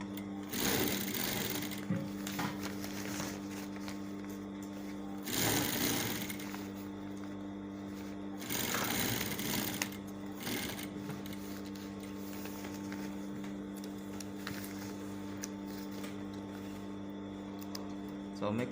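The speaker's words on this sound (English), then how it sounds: "I'm going to sew it on just a 1/4 inch allowance." A sewing machine stitches a patch pocket placket at a quarter-inch allowance in three short bursts of fast rhythmic whirring separated by pauses, close and clear, with faint talk in between.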